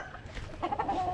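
Young gamecock stags of imported parent stock cluck briefly on a farm, a few soft close calls rising over a low background murmur.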